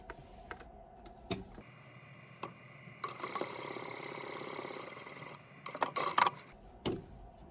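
A sewing machine runs a brief quiet stretch of stitching along a clutch seam, surrounded by sharp clicks and small handling taps.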